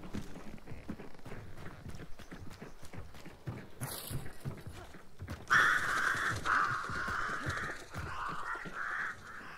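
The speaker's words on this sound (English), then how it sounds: "I heard crows like towards like on the right side." Crows cawing in a shooter video game, several harsh calls rising midway over a steady run of footsteps and movement, fairly loud and close.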